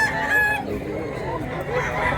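Roosters at a fowl sale crow and cluck in a busy yard, one drawn-out crow at the start followed by mixed poultry calls and background chatter.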